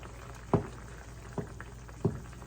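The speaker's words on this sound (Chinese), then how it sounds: "这个卤正在煮着" Tomato gravy for noodles, with wood ear mushroom and shrimp, simmers in a pot with a low steady bubbling. Three louder soft blurps or plops rise from it at intervals, close by, with no talking.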